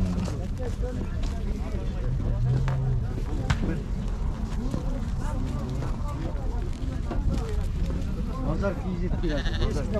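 Sheep and lambs bleating amid a busy crowd, with people talking throughout and a steady hubbub of a livestock market in Uzynagash, Almaty Region, Kazakhstan.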